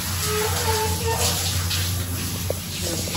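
Hotel bathroom shower running steadily while someone bathes, a continuous loud hiss of spraying water with a few faint clatters near the end.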